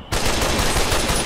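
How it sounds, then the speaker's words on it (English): Rapid burst of gunfire from the video game Fallout: New Vegas, a loud, continuous automatic volley starting abruptly and sustained for over a second with no voices. "one shot to the leg should be enough"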